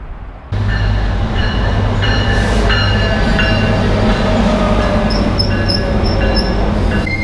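Commuter train at a station platform, a loud steady rumble of rail cars with metallic wheel squeal and rattling, close by and continuous after a sudden onset, with no talk.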